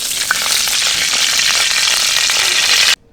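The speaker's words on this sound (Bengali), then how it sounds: "কড়াইটা আমার গরম হয়ে গেছে। এতে আমি তেল দিয়ে দেব।" Oil sizzling loudly in a hot wok, a steady dense crackle and hiss with faint stirring, continuing without talking until it cuts off abruptly just before the end.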